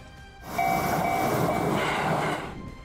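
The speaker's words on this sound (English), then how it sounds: "A lone locomotive that sped past the railroad crossing looked like a toy" A lone locomotive speeds past a railroad crossing, its loud rumbling roar swelling quickly and holding steady up close before easing away, with a faint whistle-like tone.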